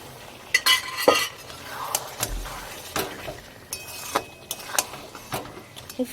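Mutton curry is sautéed and stirred in a pan with its boiled cooking water, a low background sizzle punctuated by sharp, irregular clinks and scrapes of the utensil against the metal, close by.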